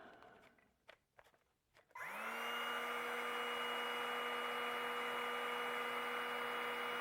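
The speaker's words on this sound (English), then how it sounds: "for less than half the price, I've now got a portable heat gun" A portable cordless heat gun for a Makita battery, bought on eBay, whirs up after a few clicks and holds a steady loud fan-and-blower whine, aimed at melting plastic.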